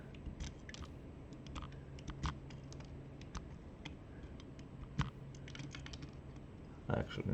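Small sharp snips of flush cutters clipping component legs on a Sun Face fuzz pedal build, scattered irregular clicks close to the microphone over a faint steady hum, with a clatter near the end.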